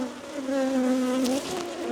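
Honeybees buzz close by during hive cleaning, a loud steady drone with wavering pitch that swells and dips as they circle near, with no talking.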